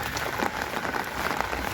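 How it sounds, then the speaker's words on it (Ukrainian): Heavy rain pours down steadily on a village road, a dense, even hiss with no voices. "сьогодні такий дощ, що на велосипеді не поїдеш"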